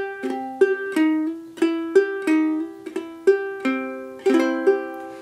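Clawhammer ukulele and baritone ukulele play two measures of Cripple Creek as a bluegrass duet, bright plucked notes and brushed strums in a bouncy rhythm, close and clear.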